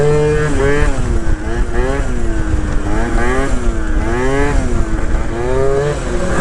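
A Honda Elite 50cc two-stroke scooter engine revs continuously and loudly up close during a wheelie, its buzzing pitch rising and falling in repeated waves with no talk over it.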